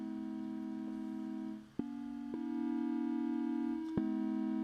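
A single synth instrument in Ableton's Operator plays sustained buzzy tones shaped by ADSR envelopes, with note changes and sharp attacks marking each new note, steady and fairly quiet.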